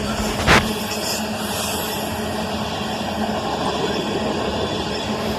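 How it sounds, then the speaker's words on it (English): A CSX manifest freight train with a long cut of tank cars rolls past steadily with a loud, continuous rumble and faint metallic squealing, after a brief sharp clank near the start. "it was just a huge cut of tankers on a manifest train"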